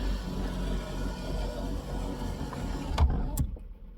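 An electric sunroof motor on a 1970s Lincoln, Mercury or Ford hums steadily for about three seconds, close and fairly quiet, then stops with a couple of soft clicks, with no talking.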